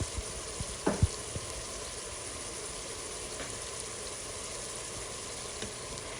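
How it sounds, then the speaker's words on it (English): Ground beef browns with seasoning and minced garlic in a pot, giving a steady, moderate sizzle throughout, with a few brief clunks of stirring near the start. "you just continue to brown the meat with all of your seasoning"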